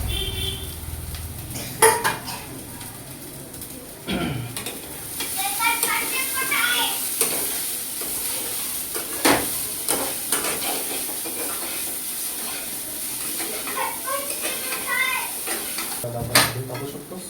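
Poha added to a hot pan and stirred as it fries, with a steady sizzle, scraping spoon-against-pan clinks and occasional sharp knocks, fairly close, with someone talking in the background.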